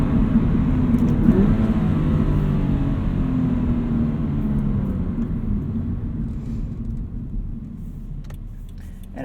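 Engine of a 2018 Subaru BRZ tS while driving, a steady low rumble with a faint rising note early on, heard from inside the cabin with no talk.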